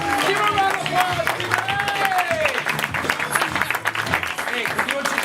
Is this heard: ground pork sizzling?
no